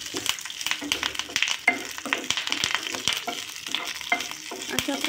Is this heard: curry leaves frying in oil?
yes